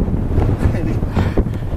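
Strong cold wind on an empty stretch of the Camino de Santiago, near a deserted village, buffeting the microphone with loud, continuous low rumbling and gusty roar, close and unbroken.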